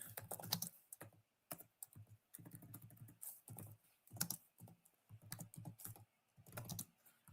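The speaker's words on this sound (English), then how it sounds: "you just type in what happened" Quiet, close typing on a computer keyboard, with rapid irregular clusters of key clicks broken by short pauses, and no speech.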